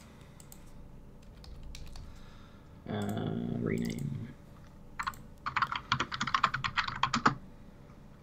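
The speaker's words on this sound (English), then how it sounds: "Apologies for the typing" Computer keyboard typing during an online Pokemon TCG match, with quiet scattered clicks early, then a dense burst of rapid keystrokes near the end; a voice speaks briefly in the middle.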